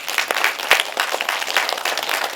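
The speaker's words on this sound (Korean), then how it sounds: "이게 맞으면 박수 부탁합니다" Audience at a lecture in a cinema hall applauding, a brief, moderately distant patter of many hands clapping without talk.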